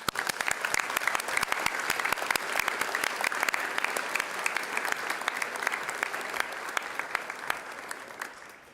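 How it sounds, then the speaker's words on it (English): Sustained applause fills a school gym at a high school commencement ceremony, many hands clapping in a dense, steady stream with sharp individual claps standing out, fading slightly toward the end. "Please give a round of applause to the support system that got you to these chairs tonight."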